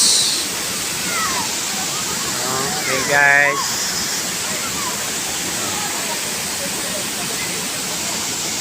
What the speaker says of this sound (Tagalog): Ito yung Balagbag Falls.